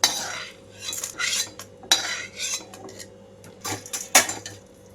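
A metal spoon scoops fried ingredients out of a pan onto a plate in a kitchen while making tomato chutney, giving a series of distinct clinks and scrapes with short gaps, close and clear, no talking.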